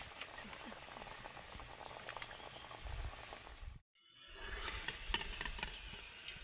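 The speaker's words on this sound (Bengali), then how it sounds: "নিমকিগুলোকেও আমি একইভাবে ভেজে নেব।" Butterfly-shaped nimki snacks frying in hot oil, a steady dense bubbling sizzle close by that briefly cuts out and returns brighter and louder.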